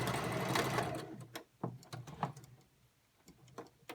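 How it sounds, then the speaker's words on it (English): Sewing machine stitching the long straight top seam of a fabric face mask, a short burst of rapid mechanical whirring at first, followed by scattered clicks and taps as the fabric is handled, fairly quiet. "I sew the top seam, the long 9-inch side."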